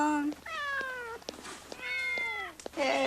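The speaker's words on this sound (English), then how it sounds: "I hope this meowing isn't the whole fucking movie" A cat meows repeatedly in a film opening at a crazy cat lady's house at night, several long drawn-out meows close up, with a short pause between the two main calls.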